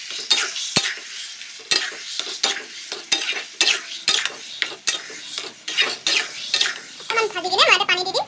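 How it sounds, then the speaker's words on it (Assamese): A utensil stirs Kashmiri red chilli powder into an Assamese-style bhakua fish curry with tomato and potato, making repeated close scraping strokes against the pan over a soft sizzle, with a brief voice near the end. "মই কাশ্মীৰী মিৰ্চটো দি এইখিনি ভালদৰে মিক্স কৰি লৈছোঁ"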